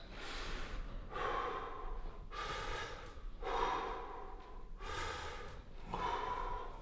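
Deep mouth breathing during a fascia stretch, with slow rhythmic inhales and exhales repeating about five times over steady low background noise, close and fairly soft.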